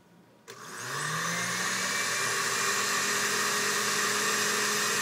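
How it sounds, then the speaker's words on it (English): A blender switches on after a brief quiet moment, its motor spinning up with a rising whine and then holding a loud, steady roar until the end. "So we're going to turn on a blender"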